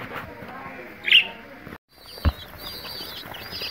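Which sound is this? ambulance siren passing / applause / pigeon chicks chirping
pigeon chicks chirping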